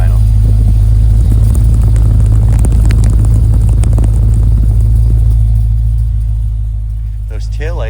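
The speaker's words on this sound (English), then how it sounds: "let's have a listen to the exhaust at idle" A car engine idles with a deep, steady exhaust rumble, loud and close, holding constant before easing off slightly near the end.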